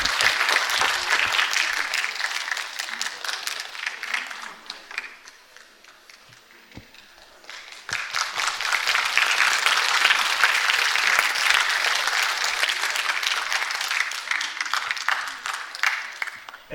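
At a stage ceremony, audience applause rings out in a dense burst, dips to a few scattered claps for a couple of seconds, then surges back into full, sustained clapping.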